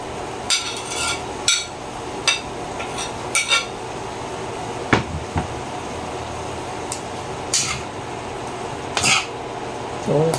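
String beans and celery stalks going into a pan of pork, with scattered sharp clinks and knocks of utensils against cookware over a low background hum, irregular and fairly close.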